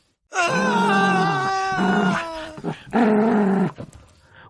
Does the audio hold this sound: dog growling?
yes